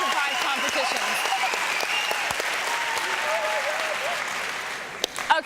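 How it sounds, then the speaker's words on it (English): Big round of audience applause for Invention Prize finalists, a sustained wash of clapping with a few voices mixed in, tapering toward the end. "How about a big round of applause for all of them"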